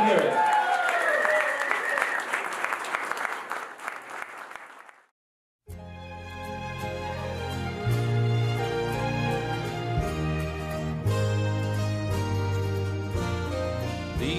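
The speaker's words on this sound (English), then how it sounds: "Big round of applause out there, guys. Let them hear it." Guests applaud and cheer for a bride and groom at a wedding reception at The Loft at Jacks Barn, with voices in the mix for several seconds. The applause then cuts off into silence, followed by music.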